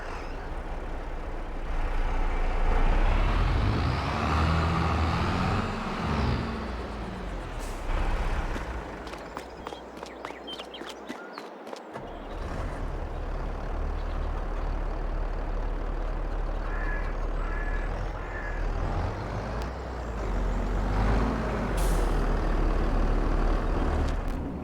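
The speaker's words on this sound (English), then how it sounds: "Better move this tractor out of the way." A tractor engine drones steadily and fairly loud in Farming Simulator 22, rumbling low throughout with a brief dip in the middle and no talking.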